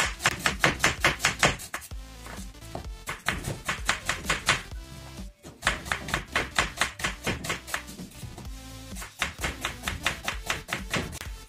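An onion being chopped on a board, fast rhythmic knife strikes in rapid bursts with short pauses between, close and crisp, no one speaking.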